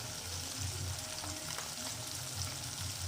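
Garlic-ginger paste sautéing in a pan with smooth cooked tomato for a carrot sabzi, a continuous dense sizzle with soft stirring scrapes, close and steady throughout.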